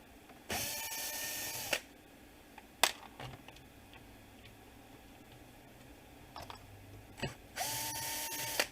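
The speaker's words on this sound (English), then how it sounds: "now you're safe to go ahead and remove these screws" A power drill backing screws out of a 2002 Ford Mustang window motor, two loud whirring bursts at the start and end, with scattered clicks and clanks of metal between them.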